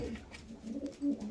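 A pigeon in a loft gives a brief, low, soft coo, fairly faint and close, with a second short coo swelling near the end.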